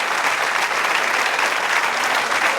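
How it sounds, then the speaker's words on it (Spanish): Steady, dense applause from a church congregation at a worship service, continuous and fairly loud throughout with no pauses. "Ese aplauso que siga por Dios y por estas vidas."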